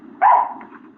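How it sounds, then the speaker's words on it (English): A single short bark from a dog, close and fairly loud, then trailing off into quieter room sound. "Whose dog's barking?"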